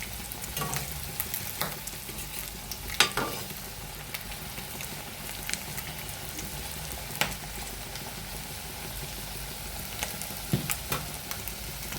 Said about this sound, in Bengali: কড়াইয়ের মধ্যে পিঠাটা দিয়ে দিয়েছি, আর এই যে ভাজা হচ্ছে, একটু তাপটা বাড়িয়ে দিয়েছি।